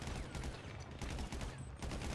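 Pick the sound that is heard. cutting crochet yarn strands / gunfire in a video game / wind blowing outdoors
gunfire in a video game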